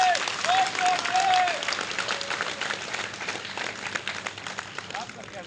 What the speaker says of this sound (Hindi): चारों ओर से तालियां जोर से, और जोर से, और जोर से, और जोर से।